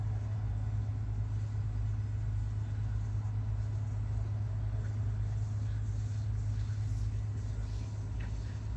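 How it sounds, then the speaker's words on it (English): A 2017 Cummins diesel engine running a forced regeneration, heard as a steady, loud low rumble and hum that stays constant throughout without change. "Doing a forced regen on a 2017 Cummins."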